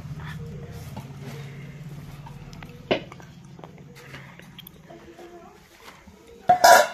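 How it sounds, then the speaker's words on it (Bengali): A cooking pot is lifted down and handled, making scattered metallic clinks and knocks over a low hum, with a sharp clank midway and a loud clatter at the end. "এবার আমি হাতটাকে ভালো করে পরিষ্কার করে ধুয়ে হাঁড়িটা নামিয়ে নেব"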